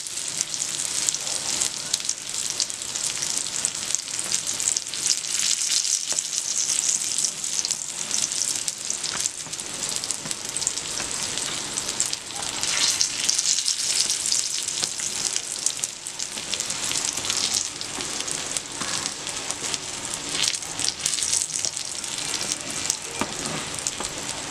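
An omelette paratha fries in a pan with a steady, close sizzle and crackle of hot oil throughout, a dense hiss with slight swells as the edges are pressed down.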